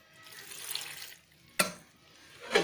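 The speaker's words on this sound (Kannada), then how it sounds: "ಎರಡು ಸುಡಿಗೆ ಒಂದು ಅರ್ಧ ಚದಿಗೆ ನೀರು ಹಾಕಿ" Water is poured into a cooking pot in a home kitchen in a few short splashing bursts, fairly close and brief, with quiet gaps between them.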